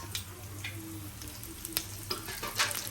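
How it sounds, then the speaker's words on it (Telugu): Urad dal, cumin, mustard seeds, dried chillies and curry leaves crackle in hot oil as a tempering, a close, continuous sizzle with scattered sharp pops and faint stirring, no voices. "గైస్, పోపు బాగా ఫ్రై అవ్వాలన్నమాట"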